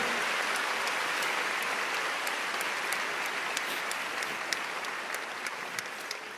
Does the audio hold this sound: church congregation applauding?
yes